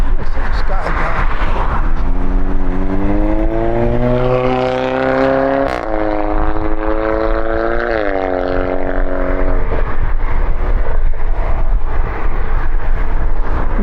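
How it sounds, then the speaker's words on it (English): An unmuffled four-cylinder car engine passes on a rainy afternoon. A loud, raspy drone climbs in pitch, dips, then climbs again before fading. "Nothing sounds worse than a four-cylinder with no muffler."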